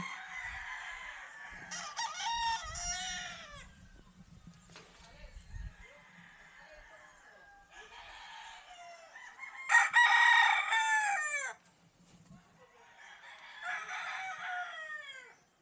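Gamefowl roosters crow at a gamefarm, several long crows from different birds, some near and loud, others farther off, with clucking and brief low sounds between them.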